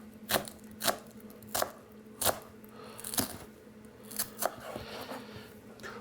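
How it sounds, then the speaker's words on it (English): Knife steadily chopping shallots fine on a cutting board, about a dozen crisp close knocks at an irregular, unhurried pace with no talking. "we're going to chop these up real finely cut"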